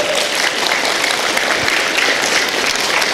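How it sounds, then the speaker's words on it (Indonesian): Loud, dense audience applause at an Islamic gathering with Ustadz Komarudin Cholil, a steady wash of many hands clapping for about three seconds without talk. "Tepuk tangan buat kita semuanya."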